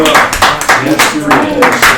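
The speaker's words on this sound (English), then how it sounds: "I wanted the applause on the recording" Audience applause at a city council work session in Trinidad, a short burst of close clapping with a few voices calling out over it.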